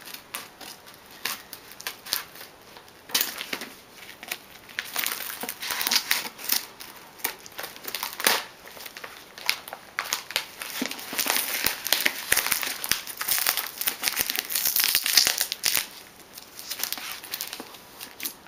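Taped cardboard packaging around a Doctor Who board game being ripped open and unwrapped by hand, with continuous crinkling, tearing and crackling bursts throughout, close and fairly loud.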